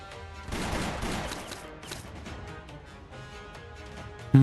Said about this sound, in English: Let's make up for all those gunshots we haven't heard over the years.